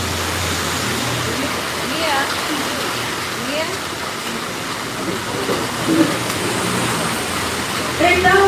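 Heavy rain pours as a loud, steady roar that fills the whole stretch, with faint voices under it.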